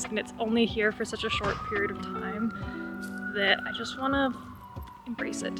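A police siren wails outdoors with a rising and falling tone as it passes, moderately distant and sustained beneath someone talking close by.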